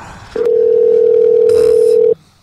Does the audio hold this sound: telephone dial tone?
yes